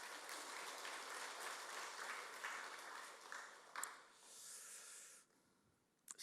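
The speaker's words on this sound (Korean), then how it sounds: "다시 한번 우리 박수하겠습니다." A church congregation claps steadily together after a choir performance, the applause tapering off and fading out with a few scattered claps at the end.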